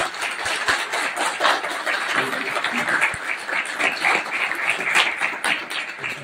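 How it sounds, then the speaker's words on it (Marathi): Audience applause at a university B.Ed. students' farewell ceremony, a dense, continuous crowd clapping that stays loud and steady throughout. "खऱ्या अर्थाने आपण आज स्वतःसाठी टाळ्या वाजवूया."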